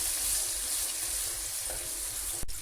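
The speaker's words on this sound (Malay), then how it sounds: "Dan kita tumiskan kita punya bahan-bahan yang telah kita kisar Dan kita tumiskan tu" Ground spice paste for satay sautéing in hot oil gives a steady, close, broadband sizzle throughout, with a single sharp click near the end.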